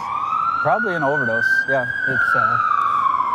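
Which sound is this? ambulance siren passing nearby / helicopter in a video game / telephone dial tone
ambulance siren passing nearby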